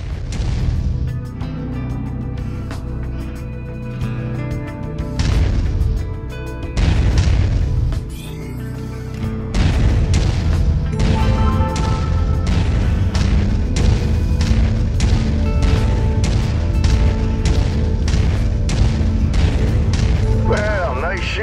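Repeated heavy booms and crashing blasts as mechs are destroyed in MechWarrior 5, loud and dense, with a spoken voice over the barrage of battle explosions.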